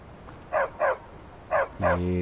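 A dog in the Skyrim video game barks four times in two pairs of sharp, fairly loud yaps, followed by a steady tonal game sound at the end.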